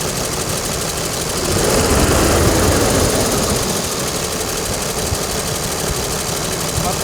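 A commercial vehicle's engine runs loud and steady, its drone swelling briefly as the accelerator is pressed and then settling back to an even rumble, with someone speaking over it.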